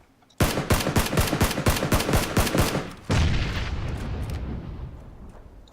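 Rapid bursts of automatic gunfire crack out in a dense volley, followed by a heavier blast and a long rumbling decay, loud and close in a battle-royale style shooter game.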